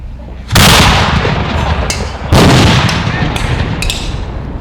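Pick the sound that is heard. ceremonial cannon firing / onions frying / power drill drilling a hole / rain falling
ceremonial cannon firing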